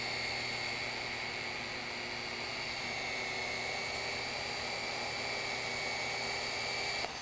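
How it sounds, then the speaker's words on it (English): An electric polishing pad conditioning brush runs steadily on a universal pad washer, giving a constant whirring motor hum with a high whine that holds at even loudness throughout, close up and with no talking. "I'm gonna put the machine on my lap and I'm gonna turn the brush on."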